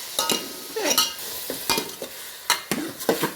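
Chicken for a Kolhapuri tambda-pandhra rassa hits smoking-hot oil, producing loud, irregular bursts of spattering crackle and stirring scrapes at close range with no talking.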